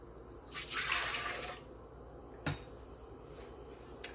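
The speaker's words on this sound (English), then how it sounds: "we're going to go ahead and pour our warm milk into the mixer" Warm milk pours into a mixer bowl in a soft, close liquid splash lasting about a second, followed by a faint clink and a couple of light knocks in a quiet kitchen.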